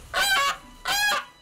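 Free-range geese on a farm give two loud, close honks about half a second apart, each a harsh nasal call with no talk around them.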